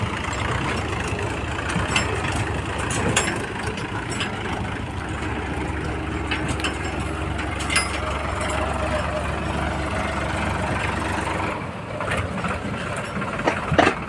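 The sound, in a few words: tractor arriving, engine running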